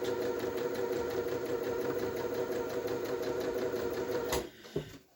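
A sewing machine stitching cheap Amtgard garb runs with a steady, close mechanical whir and rapid needle chatter, then cuts off near the end with a brief clunk.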